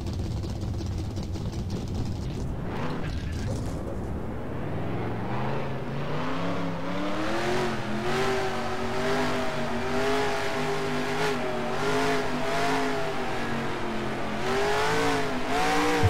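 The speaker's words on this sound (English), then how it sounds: "Drivers, start your engines!" Race car engines in the video game NASCAR Racing 2003 fire up and rev, then build into a steady, loud, rising drone of several cars accelerating together, with no one speaking.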